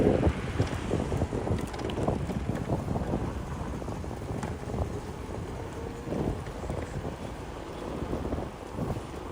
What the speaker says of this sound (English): the wind's not too bad, but it's here